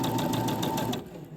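A sewing machine stitches forward in a steady rapid rhythm while a mini stocking is sewn, close and clear for about a second before slowing and stopping.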